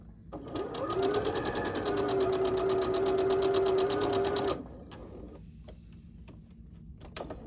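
A sewing machine stitches quilt block pieces, a fast even rattle of the needle running for about four seconds, then it stops and a few small clicks follow.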